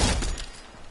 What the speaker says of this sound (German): ich schieß den Loot Drop runter